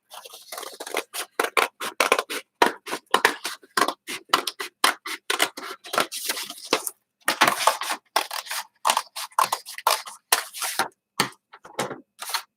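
Scissors snip repeatedly through folded paper, cutting it into four equal pieces in a rapid series of crisp, close cuts with brief pauses between bursts.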